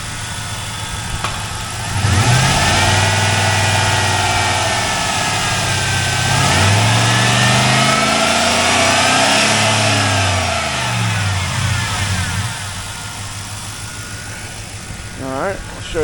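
A 2004 Pontiac GTO with a 5.7L LS1 V8, a six-speed manual and a single exhaust idles with a deep steady rumble, then revs up and falls back several times, loud and close.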